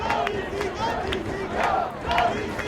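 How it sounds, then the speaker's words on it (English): Fans at a DC Current versus Boston Whitecaps ultimate frisbee game chant "Go DC, Go" in rhythmic bursts, a moderately loud crowd chant rising and falling about every half second. "The crowd's getting into it with a "Go DC, Go" chant."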